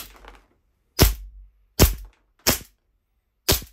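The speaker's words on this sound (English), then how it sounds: "we are with the test shooting of the WE B92 gas blowback" A WE B92 gas blowback airsoft pistol fires four single shots, each a sharp, close crack with a short mechanical snap, spaced less than a second apart, after a faint handling rustle.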